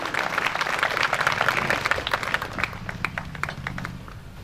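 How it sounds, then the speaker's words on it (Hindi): Audience applause fills a hall at a village inauguration event in Jaulkheda, a dense steady patter of many hands that gradually thins and softens toward the end. "एक बार आप पुनः अपनी शानदार तालियों से जबरदस्त समर्थन दीजिए"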